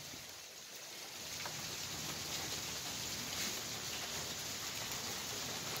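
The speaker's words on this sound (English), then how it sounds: "Listen to the rain." Steady rain pours down in a soft, continuous hiss, building slightly after the first second, with no voices.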